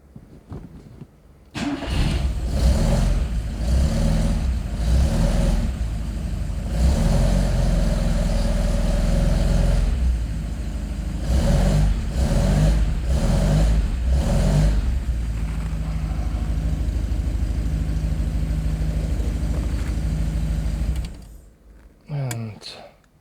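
A classic car with a rebuilt engine cold-starts: the starter cranks briefly, then the engine catches and runs loudly and steadily for about twenty seconds with repeated revs, before being shut off near the end.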